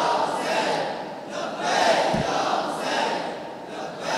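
A large crowd at a Muharram religious gathering chants a slogan in unison, rising and falling in swelling waves of massed voices, loud and reverberant, with a brief thump in the middle.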